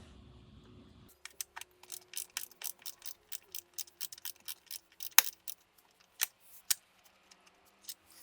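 A hand ratchet loosening bolts beneath the screen of a Tesla Model 3 or Model Y, a steady run of close, crisp clicks in quick rhythmic strokes, with a brief muffled rustle just before.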